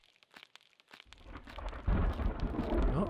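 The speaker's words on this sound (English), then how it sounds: "Oh, thunderstorm though." Thunderstorm in the video game Dinosystem: a quiet stretch of scattered crackles gives way to a building low rumble and steady rain-like hiss that swells loudly in the second half, with no talking.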